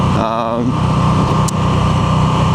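A Moto Guzzi V7 Sport motorcycle engine lugs at low speed in second gear, a steady near rumble with a strained, near-stalling tone, while a voice talks over it early on.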